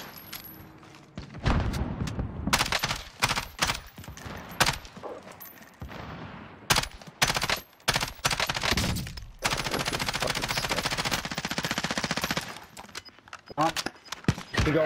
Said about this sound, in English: they're shooting at me out of the air